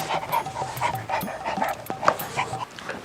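A village dog guarding a house pants close by in quick, rhythmic breaths, with a few faint whimpers mixed in.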